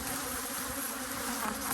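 Honey bees buzzing steadily in a dense, continuous drone close by at a hive super full of honey being pulled, with no talking.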